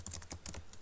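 Quick keystrokes clatter on a computer keyboard in a short, irregular burst of soft, close clicks.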